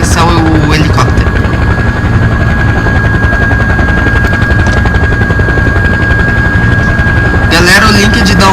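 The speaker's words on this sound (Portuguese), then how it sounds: "vamos arranjar um outro lugar para aterrissar o helicóptero." A helicopter in Farming Simulator 2015 comes in to land, its rotor chop a steady, loud, continuous thrum beneath a persistent high whine, with a voice talking over it throughout.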